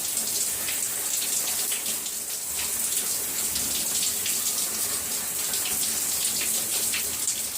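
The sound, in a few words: running water rinsing hair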